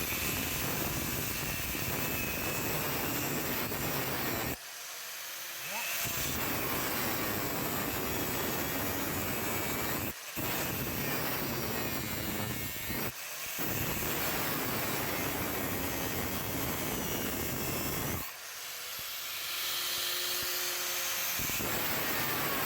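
An angle grinder cuts through the dashboard of a Mercedes W123 300D, a loud, continuous harsh whine that runs in long bursts, broken by a few short pauses where the disc lifts off.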